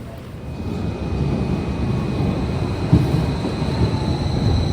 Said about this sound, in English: these are the new trains that are coming to Berlin's U1, U2 and U3 lines